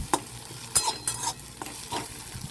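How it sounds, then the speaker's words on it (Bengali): Chopped food is stirred and fried in a pan in a Bengali home kitchen, with scraping spatula strokes and light sizzling coming in irregular bursts close to the mic. "মা ভালো করে নেড়ে নিল"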